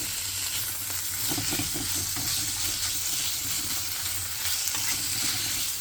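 Duck meat sizzles in olive oil in a hot pan while being stirred, a steady crackling fry with soft scraping of the utensil, close and continuous.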